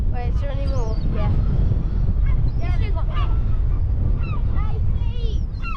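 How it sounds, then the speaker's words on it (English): Seagulls call repeatedly on Peel hill in the Isle of Man as people feed them, giving a series of sharp, yelping cries scattered over a constant background rumble. "You're not supposed to feed the seagulls, you know."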